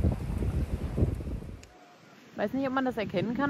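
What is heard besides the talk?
strong wind on a beach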